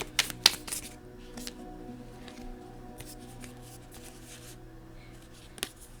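Tarot cards riffled and shuffled by hand with crisp bursts of flutter near the start, quieter handling and soft taps through the middle, and one more brief shuffle near the end, close and fairly faint.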